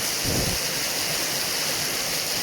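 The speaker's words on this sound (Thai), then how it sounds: "เดี๋ยวรอฝนหยุดก่อนนะครับ เชียงใหม่ฝนตก" Steady rain falling in Chiang Mai, Thailand, as a constant, even hiss, with a brief low rumble near the start. No voices.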